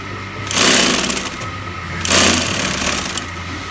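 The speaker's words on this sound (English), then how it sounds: "Right now he's just sewing the back and the front together." A sewing machine stitches the back and front panels of a bag together in a factory, running in two loud bursts with a steady mechanical whir in between.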